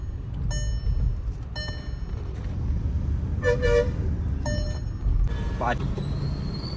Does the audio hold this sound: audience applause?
no